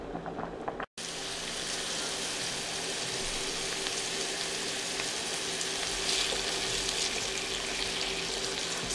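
Onion sautéing in heated oil in a frying pan, a continuous hissing sizzle that holds steady for several seconds after a brief cut, with no talking.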